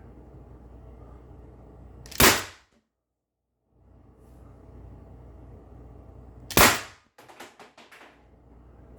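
Two sharp, loud shots from a Umarex T4E HDP 50 air pistol firing 8.4 gram steel balls, spaced about four seconds apart over a low room hum, the second followed by a rattling clatter.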